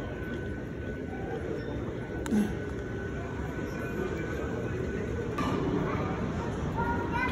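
Steady low rumble of a moving train carriage, with a couple of brief clicks and a faint announcement-like voice in the background.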